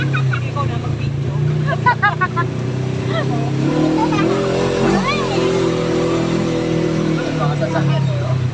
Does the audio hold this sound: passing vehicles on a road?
yes